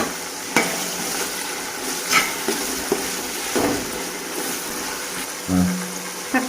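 Tomatoes with green chilies, mint and coriander sautéed in a pan for chicken biryani, a spatula scraping and clacking at irregular intervals over a steady low sizzle, close and fairly loud.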